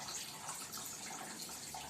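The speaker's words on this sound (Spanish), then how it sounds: "nos vamos a dar cuenta de de los chorritos que salen del agua" Thin water jets stream steadily from holes punched in a plastic bottle, a continuous close splashing hiss with no talk over it.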